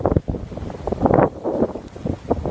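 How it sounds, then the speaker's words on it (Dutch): Strong wind buffets a microphone outdoors by a forest hut, loud gusty rumbling roar throughout with no voices. "Ik sta midden in de wind,"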